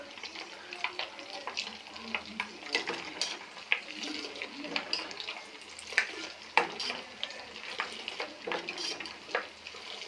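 Butter boiling and sizzling in a pan while being cooked down into ghee, a steady bubbling crackle with frequent sharp pops, close and moderately loud, with no one talking.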